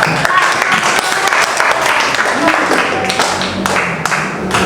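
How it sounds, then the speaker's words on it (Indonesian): Loud classroom applause from primary school pupils in a Pancasila civics lesson, a close, dense burst of clapping lasting several seconds with voices mixed in. "tepuk tangan buat Putra."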